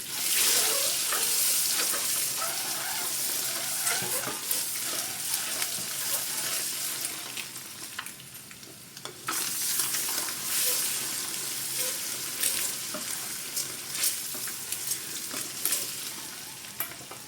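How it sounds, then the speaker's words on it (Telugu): Peeled boiled eggs frying in oil with turmeric and salt for an egg masala curry give off a close, continuous sizzle, with stirring and occasional clatter. "ఎగ్స్ ఈ విధంగా ఫ్రై అయినాయి"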